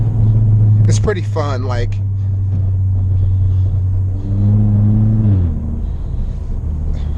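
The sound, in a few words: Ford Fiesta with dual clutch transmission downshifting, engine rumble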